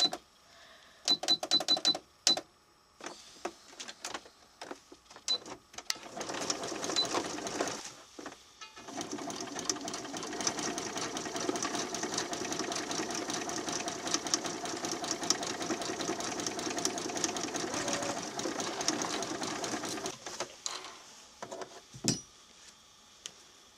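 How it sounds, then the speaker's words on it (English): A home sewing machine runs a zigzag stitch through fabric while attaching an ear to a sewn Scottish terrier toy, a few short bursts followed by a long steady rattling run of about twelve seconds, close and alone. "And I'm going back to my zigzag stitch."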